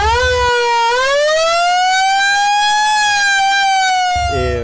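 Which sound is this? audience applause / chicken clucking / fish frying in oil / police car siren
police car siren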